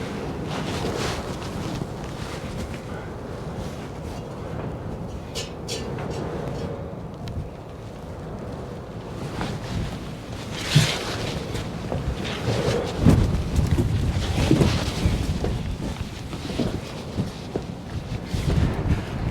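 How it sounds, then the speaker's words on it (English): Wind buffeting a microphone outdoors on a blustery day, a continuous low rumble with gusty thumps and surges that grow rougher and louder in the second half, with faint voice underneath. "A bit of a windy day today"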